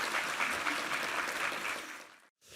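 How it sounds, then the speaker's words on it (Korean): A church congregation gives a round of applause of thanks and glory to God at an Easter service, dense clapping held evenly before stopping abruptly near the end. "우리 하나님께 감사와 영광의 박수 올려드리겠습니다"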